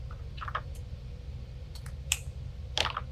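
Scissors snip through a strip of ribbon while a Halloween deco mesh wreath is being made: three quiet, crisp cuts spaced apart over a soft background hush, with no talking.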